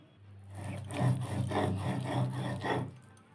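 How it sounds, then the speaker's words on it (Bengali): Sesame, tomato and onion paste being ground by hand on a stone slab, heard as a close, steady series of rough rubbing strokes in a regular back-and-forth rhythm, with no talk over it. "সব কিছু বন্ধুরা আমি এই যে পাটায় বেটে নিচ্ছি, এই যে দেখুন পাটায় বাটলে ভালো হয়"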